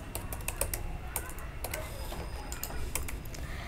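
Quick typing on a computer keyboard while building a PHP and MySQL web dashboard, with rapid, steady clicking keystrokes close by and no talking.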